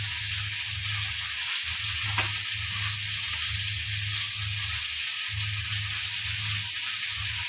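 Okra (bhindi) fries in a pan with a constant soft sizzle, joined by low intermittent scraping and stirring noises, with no voices.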